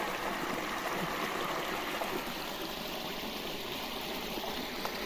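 Water pumped by a motor flows steadily into a field bed, a continuous close rushing trickle with no voices over it.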